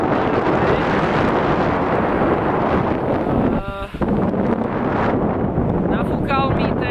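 At a Sicilian seaside, strong wind buffets the microphone with a loud, constant, rumbling roar that dips briefly in the middle. Faint voice-like tones surface near the end.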